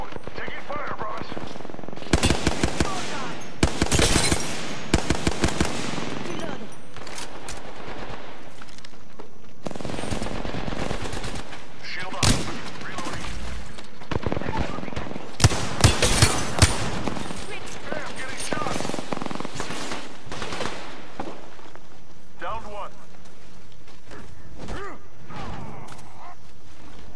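Gunfire in the battle-royale shooter Apex Legends: dense bursts of rapid automatic fire and single shots in loud clusters separated by quieter gaps, with some talking heard between the volleys.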